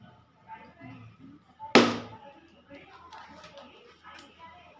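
A single sharp pop of an air-filled balloon bursting during a school science experiment, loud and close, with people talking quietly before and after.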